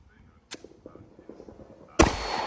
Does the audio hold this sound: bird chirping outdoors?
no